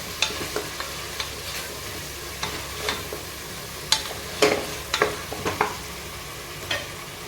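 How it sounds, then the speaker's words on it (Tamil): Ginger garlic paste sautéing in a pan for a tomato biryani, with steady soft sizzling and repeated sharp spatula scrapes and taps against the pan, close and clear with no talking. "இதனுடைய ரா ஸ்மெல் போகிற அளவுக்கு நல்லா வதக்கி கொடுக்கணும்"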